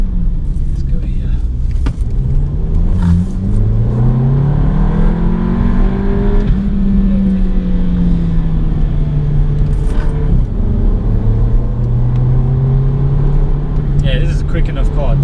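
A 2018 VW Polo GTI with a 200PS engine pulling along back roads, its engine note rising and falling in smooth sweeps of pitch beneath steady cabin rumble, with a voice talking over much of the drive.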